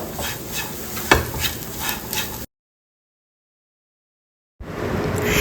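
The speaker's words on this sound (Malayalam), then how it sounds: "ഇപ്പൊ പച്ചമണം മാറുന്ന വരെ അതൊന്ന് വഴറ്റി കൊടുക്കാം കേട്ടോ" Beef cutlet filling with garam masala is sautéed in a pan, giving a close sizzle with stirring scrapes and a sharp clink. It breaks into two seconds of silence before the frying sound returns.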